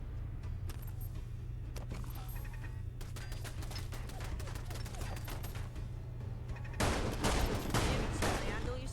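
Turrets fire in Fallout London, with rapid bursts of gunfire over a steady low hum that grow into a louder, denser volley near the end.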